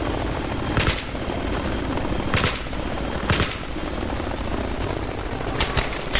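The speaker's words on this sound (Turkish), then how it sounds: "Sıkmayın lan helikoptere." Helicopter and gunfire in the Battlefield 3 video game: a steady loud rotor-like roar runs throughout, broken by several sharp bursts of shots spaced about a second or more apart.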